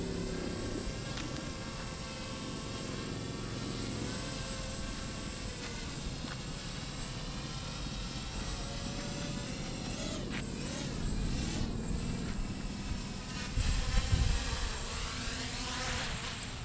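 A Hanmilt drone, flown straight out of the box, gives off a steady insect-like propeller buzz that holds for the whole stretch and swells a little louder near the end, with no talking.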